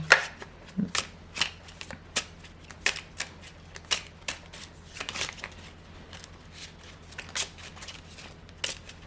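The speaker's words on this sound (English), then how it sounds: "I'm a little clumsy with my shuffling today." Tarot cards being shuffled up close, a series of irregular riffles and soft slaps spread throughout, with quiet room noise between them.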